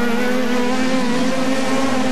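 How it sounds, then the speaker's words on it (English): Loud, sustained off-road racing truck engine roar with a steady high-pitched whine, several motors screaming together at high revs without a break. "You hear these engines scream."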